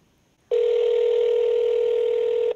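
A phone call rings over a speakerphone: a single steady electronic tone starts abruptly and holds loud and unbroken for about two seconds, with no talking over it.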